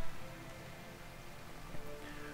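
Rain ambience in the video game RimWorld, a soft, steady hiss of falling rain at low level with faint background tones.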